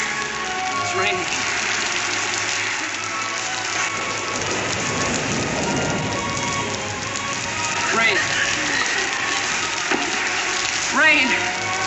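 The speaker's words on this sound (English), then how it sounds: "It's raining." Continuous rainfall hisses and patters evenly, with a few faint birdlike chirps rising above the wash near the end.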